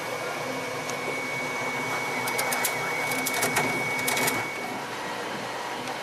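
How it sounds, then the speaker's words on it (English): A 3D printer prints pieces of a segmented centaur model with a steady mechanical whir, broken by bursts of quick, buzzing stepper-motor movements in the middle. "This is the printer printing off the next to last 9 pieces."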